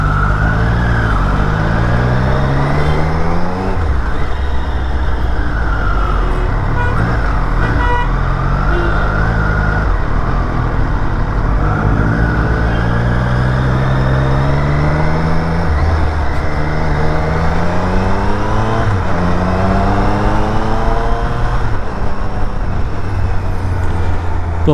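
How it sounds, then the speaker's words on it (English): A 2020 Triumph Street Triple RS motorcycle engine and exhaust sound loud and close, revving up and down through repeated rising and falling sweeps of engine pitch, with steady road and wind roar throughout. "the one thing to love this bike is the exhaust note."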